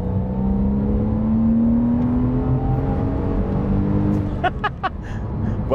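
A Porsche Cayman S engine revs up under acceleration on a cold 7-degree day, its tone climbing smoothly and loudly from inside the car, then easing off with a few brief clicks near the end.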